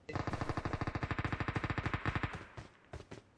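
Rapid automatic gunfire in a multiplayer shooter game, a long burst of evenly spaced loud shots followed by a few scattered single shots as it trails off, with no talk over it.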